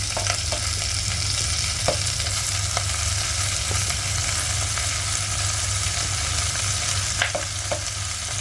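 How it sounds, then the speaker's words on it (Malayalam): Tomatoes and drumstick pieces fry in a pan for a tomato drumstick curry, giving a loud, steady sizzle broken by occasional sharp clicks as the pan is stirred. "മുരിങ്ങക്കായും കൂടി ഇട്ട് കൊടുക്കാം തക്കാളി ഇടുകയാണ്"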